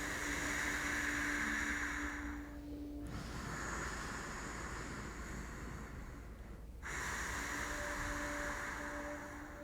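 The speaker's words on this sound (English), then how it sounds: "Remember the ocean breathing, so constrict your throat" Steady, audible ujjayi ocean breathing through a constricted throat during a live-streamed yoga class, slow breath cycles rising and falling with brief pauses between them, close and continuous with no talking.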